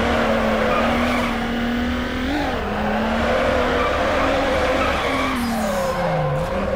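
A Golf GTI drifts in Need for Speed Underground 2, its engine droning loudly and steadily while the tires skid and squeal continuously, the pitch shifting slightly through the slide, with no voices.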